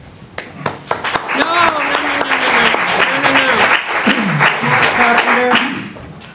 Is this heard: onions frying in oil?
no